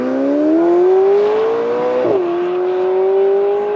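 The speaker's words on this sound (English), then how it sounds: "Great sound out of the 4-liter twin turbocharged V8." A rear-driven, mid-engine sports car with a 4-liter twin-turbocharged V8 accelerates hard off the line, its engine note climbing steadily, dipping briefly at a shift around the two-second mark, then rising again, loud and close throughout.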